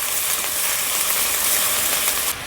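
Ground mustard, cumin and radhuni spice paste frying lightly in a pan, giving a steady, dense sizzle that holds close and even throughout before easing off slightly at the very end.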